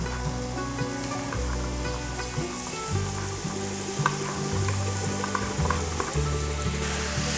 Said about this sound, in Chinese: 把白萝卜炒软